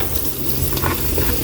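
Butter and garlic sizzle loudly and steadily in a pan, a close, dense frying hiss with a low rumble beneath it, and no voices.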